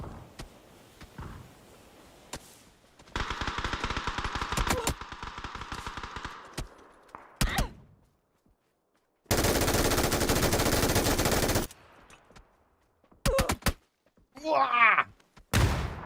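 MG3 machine gun fire in a video game, heard as several sustained bursts of rapid automatic shots separated by short silences, with a final burst followed by a brief vocal sound.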